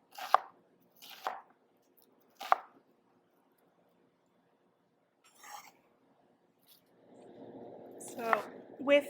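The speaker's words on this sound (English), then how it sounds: "do vertical slices and horizontal slices" A knife cuts through an onion on a cutting board in a few separate close, crisp chops with pauses between them, followed by a softer scraping rub at the end.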